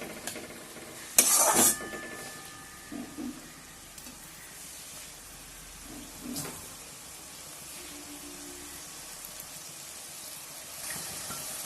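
Chicken bun filling with onion sautéing gently in a pan, a soft low sizzle with a few sharp clatters and stirring scrapes, fairly quiet throughout.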